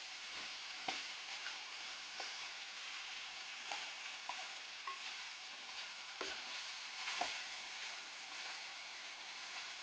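Thin potato slices sautéing in hot oil over a high flame, giving a steady soft sizzle and hiss with occasional small crackles and stirring clicks, fairly quiet and with no voices.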